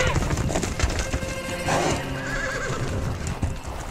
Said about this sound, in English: seeing hundreds of wild horses coming in from every direction